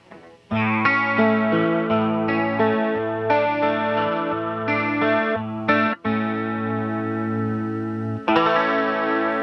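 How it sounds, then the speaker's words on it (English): An electric guitar plays sustained chords through a Danelectro Cool Cat Chorus pedal on a stereo rig, with a shimmering, wavering tone and brief breaks between the strummed changes. "I'll turn the chorus on."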